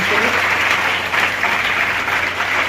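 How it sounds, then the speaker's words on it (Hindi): Loud, continuous clapping fills a school program at Genius Academy in Mahendergarh as the audience honours a local benefactor, close and sustained with crowd murmur blended in. "जोरदार तालियां बजाइए"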